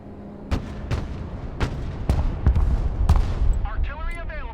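Artillery volley in the modern warfare strategy game Broken Arrow: about six heavy booming shots at irregular intervals, loud and close, with rumbling tails and radio-style voice chatter toward the end.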